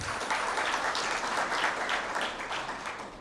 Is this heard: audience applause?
yes